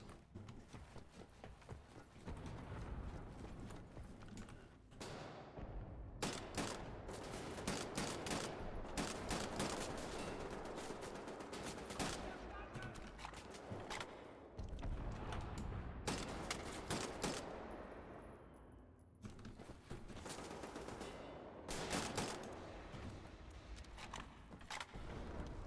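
Sustained automatic assault rifle fire in Wolfenstein: The New Order, loud and dense, coming in long rattling bursts broken by brief pauses, with no speech over it.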